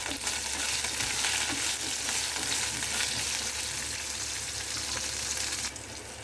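Cumin seeds, chana dal and fenugreek seeds frying with green chilies in hot oil for a gongura pickle, giving a steady, close, continuous sizzle that holds evenly throughout, with no talking.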